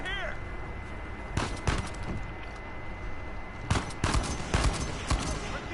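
Sniper rifle and other gunfire in the video game Uncharted 4, a few sharp cracking shots in two clusters over a steady game background, without talk.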